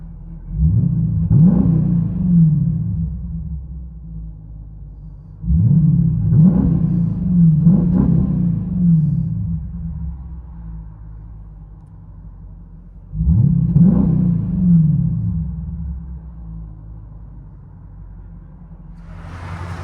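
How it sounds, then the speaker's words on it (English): A 2022 Dodge Durango R/T with a 5.7L Hemi, X pipe, Vibrant mid mufflers and rear delete, heard from inside the cabin. Deep exhaust rumble swells three times on throttle, each rising sharply then easing back to a low drone. "Dodge Durango RT Hemi, vibrant mids, X pipe, rear delete, 5-inch diff."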